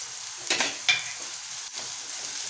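Curry leaves and chopped green chillies sauté in a pan with softening onion for a Marathi boiled-potato bhaji, giving a steady sizzle broken by a couple of brief crackling bursts as they hit the hot oil.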